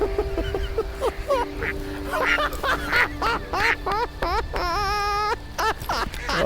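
Loud, repeated duck quacks from thousands of ducks in an Idaho cornfield come in rapid overlapping bursts, close by, with a few longer honking calls mixed in.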